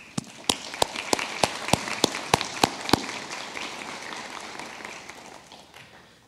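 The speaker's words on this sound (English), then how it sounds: "Please give them a round of applause." Applause from an audience at a high school lottery event, starting with a run of sharp, evenly spaced claps that then fade into a softer, thinning wash of clapping.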